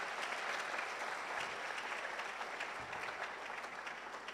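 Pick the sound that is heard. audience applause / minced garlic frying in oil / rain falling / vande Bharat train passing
audience applause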